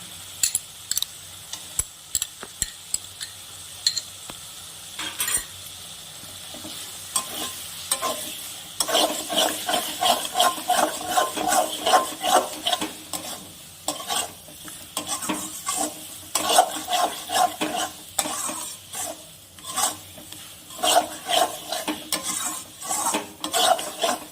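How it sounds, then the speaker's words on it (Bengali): A paste of melon seeds, poppy seeds and cashews is sautéed with potatoes in a pan for a fish curry, a soft sizzle beneath repeated scraping and clinking of a metal spoon stirring in bursts, close and clear. "মশলাটা ভালো করে কষানো হয়ে গেছে"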